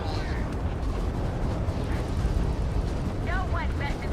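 Spaceship weapons fire and explosions in Starfield make a dense, rumbling roar of blasts and booms that runs the whole way through, with a few chirping effects near the end and game voices over it.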